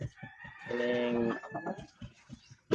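A Kapayas-line chicken crows once in a short, strained call in a garden, with clucking and nearby voices around it.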